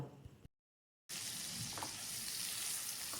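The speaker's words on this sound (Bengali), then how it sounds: "বাটা মশলাটা ভেজে নিতে হবে।" A ground onion and ginger paste hits hot oil for a pabda fish curry and fries with a steady, close hiss and crackle. A brief silent gap breaks it early on, and no one talks.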